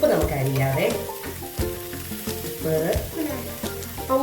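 Onions frying in a pan for a Kerala-style shakshouka give a loud, close sizzle with repeated stirring knocks and scrapes, and no one speaks.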